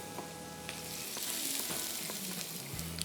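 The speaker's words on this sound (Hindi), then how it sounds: "और इसको थोड़ा सा करेंगे फ्राई" Ginger and garlic frying in a pan, a close, bright steady sizzle with scraping stirs and a few sharp clinks of a utensil against the pan.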